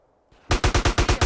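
Rapid automatic gunfire in a GTA San Andreas shootout, a short burst of about eight evenly spaced loud shots following a brief faint click, close and with no talk.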